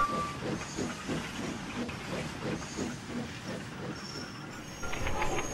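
Steam hisses steadily from a steam locomotive engine in a Thomas & Friends railway scene, a continuous moderate wash with faint rhythmic chuffing underneath and a brief rise in intensity near the end.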